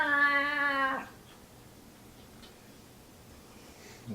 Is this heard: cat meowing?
yes